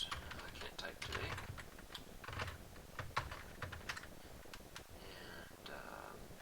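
Quick, uneven bursts of keystrokes on a computer keyboard while someone types code during a programming lesson on exception handling, fairly quiet and close with short pauses between runs of clicks.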